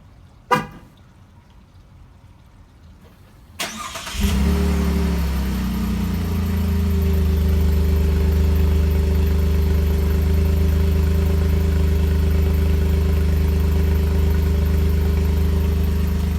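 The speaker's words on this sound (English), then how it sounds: "So I will give you an exhaust clip here" A brief click, then a 2017 Chevy Colorado V6 pickup with a new, mild aftermarket exhaust cranks and settles into a steady, deep exhaust idle that rumbles on evenly, low and close.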